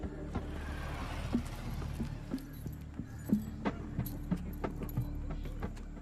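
Keys jangle during a tense police scene in a Hindi-dubbed film, with a set of metallic jingles and clinks repeating every second or so over a steady low background hum.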